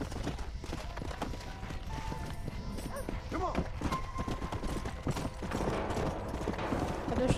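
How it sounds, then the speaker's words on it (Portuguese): A horse gallops in Red Dead Redemption, a steady clip-clop of hooves running continuously at moderate loudness, with a brief whinny and game sounds around it while someone talks over the top. "É meu cavalo, velho."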